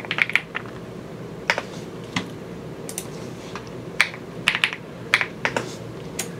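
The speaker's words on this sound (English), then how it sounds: "I just kind of come in and type whatever I want to do" Someone types on a desktop computer keyboard in short, irregular bursts of crisp, close key clicks over a quiet room hum, with no one speaking.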